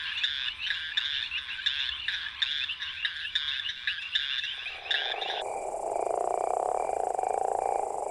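Leopard toad calling from an urban garden, its croak swelled by a balloon-like throat pouch: a rapid pulsing trill repeated steadily for about five seconds, then giving way to a different, broader steady sound with no talk.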